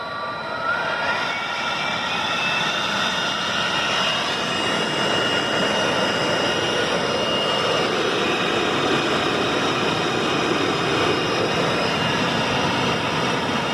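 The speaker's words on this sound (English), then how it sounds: "a good way with his DeWalt blower" An 18-volt DeWalt cordless blower blows steadily into an oak and pine fire pit, making a loud, continuous, even roar of rushing air that holds unbroken for the whole stretch.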